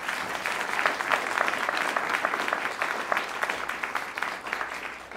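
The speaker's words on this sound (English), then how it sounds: "give another round of applause for Ajaya Thomas" Sustained applause from an audience at an agency awards ceremony, honoring a singer's rendition of the national anthem; steady, dense clapping throughout at even strength with no voices over it.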